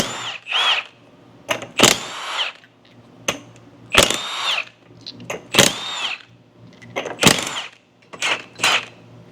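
A power tool, likely an impact gun, zips off the lug nuts on a car wheel in repeated short, loud bursts, each lasting under a second with brief pauses between them, close by.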